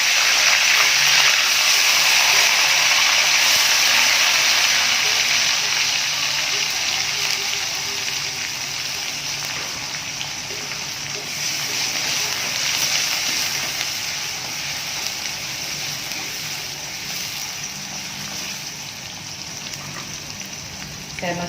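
Onion sizzling in a hot pan while cooking chicken tauco with quail eggs: a steady, bright frying hiss, loudest at first and then settling into a softer, even crackle.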